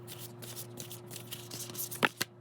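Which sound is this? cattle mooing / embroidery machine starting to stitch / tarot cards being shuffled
tarot cards being shuffled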